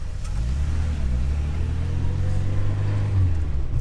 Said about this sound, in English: Ah, sweet revving 1500cc engine.